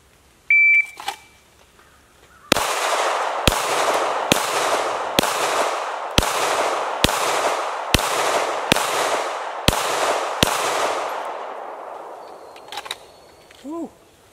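A shot timer beep, then ten sharp pistol shots at a steady pace over about eight seconds during a 10-yard B8 drill, loud and close, followed by quieter handling noises and a brief voice.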